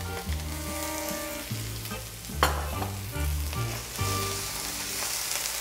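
A chickpea filling with tomato paste sautés in a pan with a close, steady sizzle, broken by a few sharper clatters from stirring. Background music plays underneath.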